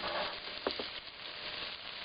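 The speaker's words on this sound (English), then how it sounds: "just let it sizzle for a little bit" Vegetables for a homemade spaghetti sauce sizzle in a pan: a steady, close hiss of frying with a couple of brief soft clicks partway through, and no one talking.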